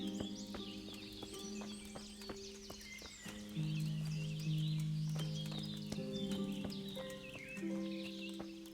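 A horse in Kingdom Come: Deliverance clip-clops with irregular hoof strikes in a medieval outdoor setting, with soft whinny-like sounds and a sustained musical tone underneath.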